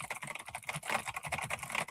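Rapid typing on a mechanical keyboard with brown tactile switches, a dense, steady patter of quiet keystrokes without sharp clicks, close and continuous throughout.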